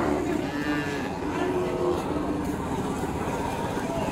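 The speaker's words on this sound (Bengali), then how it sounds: "এটা খুব সুন্দর একটা গরু" A cow at a Qurbani livestock market lows in a long, drawn-out moo over a busy background hum, with faint talk mixed into the crowd noise.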